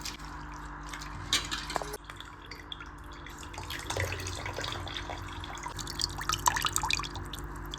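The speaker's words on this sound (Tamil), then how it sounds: "இது கூட இன்னும் கொஞ்சம் தண்ணி ஊற்றி கரைச்சி எடுத்துக்குவோம்" Water drips and trickles into a bowl of tamarind with soft splashing and small wet sounds, fairly close, with steady low background noise and no talking.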